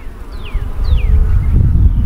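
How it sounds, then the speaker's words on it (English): Honey bees at an opened hive during an inspection, a low, steady buzz swelling slightly over two seconds, with two brief high descending chirps near the start and no talking. "These bees are doing a great job."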